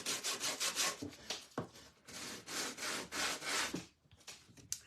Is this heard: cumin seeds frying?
no